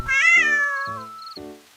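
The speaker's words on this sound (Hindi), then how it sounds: "मीनू और उसकी प्यारी समझदार बिल्ली।" A cat meows three times in a row, the first call long and drawn out, followed by two shorter, lower meows, all close and clear with no talk over them.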